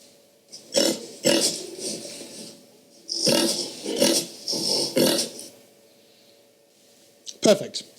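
Recorded pig oinking and grunting played back for an iOS sound-classifier app demo, coming in several loud bursts with gaps, speech-like snorts, and a final short burst near the end.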